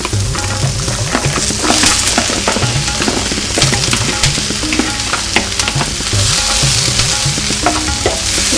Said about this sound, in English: Now I'm going to put my okra in and cook that.